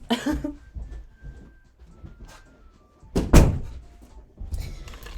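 A door closes indoors with a solid thunk near the middle, surrounded by scattered small knocks and handling noises, close and fairly loud.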